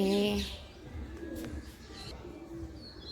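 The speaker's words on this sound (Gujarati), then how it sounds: "કબૂતર ઘૂ ઘૂ કરી રહ્યા છે" Pigeons coo in soft, low repeated calls, with a few higher chirps from other birds scattered through a quiet outdoor background.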